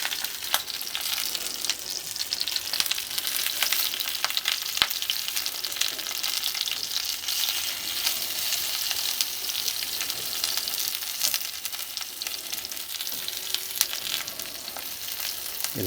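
Mushrooms fry on a shovel held over concentrated heat, giving a continuous dense hiss and crackle with a few faint clicks, close and even throughout.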